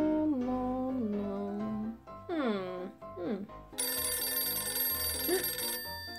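A telephone rings inside a children's toy-play house scene with Barbie, its bright repeating electronic tone running through the last couple of seconds, preceded by a voice speaking.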